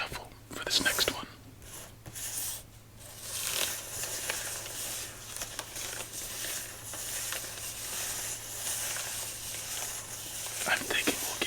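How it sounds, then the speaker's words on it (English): Playing cards get a casino shuffle during a quiet solitaire game, with soft riffling, sliding and crinkling card noises running throughout under a whispered voice. "let's do a casino shuffle for this next one."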